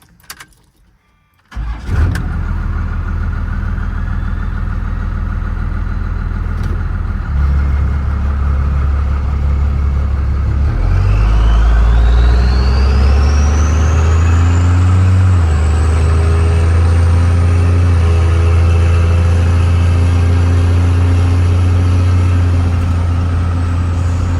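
A first-generation Cummins diesel pickup truck starts and runs, with a brief rattle giving way to a loud, steady low engine rumble that rises in pitch as it pulls away and accelerates, close up inside the cab with no talk.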